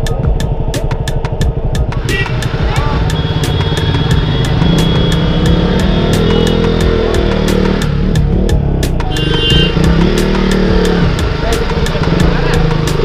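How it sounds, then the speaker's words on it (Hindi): A KTM motorcycle rides a crowded mountain road in Jibhi, Himachal Pradesh, its engine droning loud and close with steady wind rush, while a rider talks over it and traffic sounds pass. "मैं पहली बार इतनी लंबी राइड कर रहा हूँ KTM पे"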